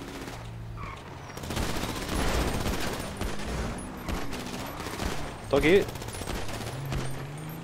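Rapid bursts of gunfire in the video game GTA 5 Online ring out under casual talk, with sustained volleys and a louder burst near the end.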